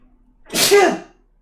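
A single loud sneeze, sudden and close, fading quickly into quiet.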